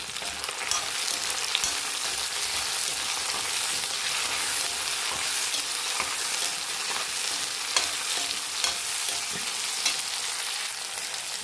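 Curry leaves and two tomatoes frying in a pan for a coconut-free dosa chutney: a continuous loud sizzle with scattered pops and stirring scrapes throughout, with no voices.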